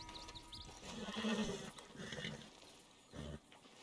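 A horse in the Red Dead Redemption 2 video game whinnying and snorting after a fall, a couple of strained neighs and grunts at close range, rising in the middle and fading, followed by a short low snort.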